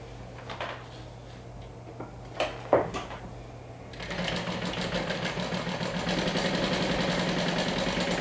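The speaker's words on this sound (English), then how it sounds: "now lastly we're going to stitch this bottom like so" A sewing machine stitches the bottom seam of a fabric wand holder. A few light clicks and handling taps come first, then a steady, continuous motor whir runs to the end.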